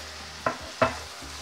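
Minced meat with Worcestershire sauce for chili con carne is stirred in a frying pan: two distinct scraping strokes sound close over a soft, steady sizzle.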